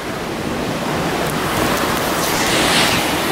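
Continuous broadband rush of a small waterfall at Shupe's Chute with high-running water, steady and loud up close, no voices over it.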